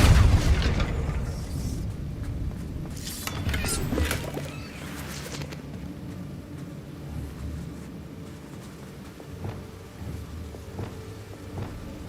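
Depulso force spell cast in the Hogwarts Legacy video game, a heavy booming burst at the start that rolls into rumbling game ambience with a few sharp impacts later on.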